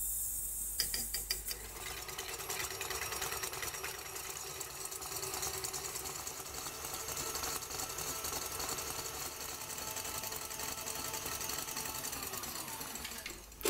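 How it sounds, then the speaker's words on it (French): A stand mixer whips eggs and sugar into a thick foam. It gives a steady, continuous mechanical whir at an even level for the whole stretch, with a brief clatter at the start and no talking. "N'hésitez pas à laisser tourner votre robot pendant au moins 10 minutes."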